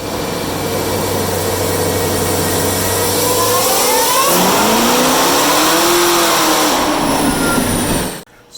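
Tree-L1 truck engine fitted with a Magnuson 2650 supercharger on a dynamometer pull, a loud sustained engine roar with rising whine as revs climb, transmission slipping in seventh gear, then cutting off sharply at the end.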